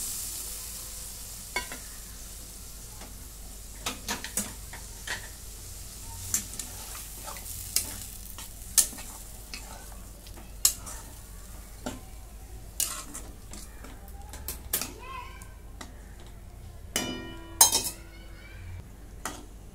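Cooked chickpeas being stirred in a frying pan for Konkani-style chana masala, with a soft sizzling bed and scattered light clinks and scrapes of a spoon against metal, moderately quiet and irregular, with no talk.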